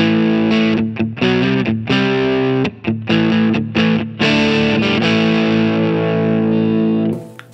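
Overdriven electric guitar through a handmade Mosky Obsessive pedal at about unity gain, a loud run of choppy distorted chords and riffs with brief gaps, ending in a ringing held chord, no voices.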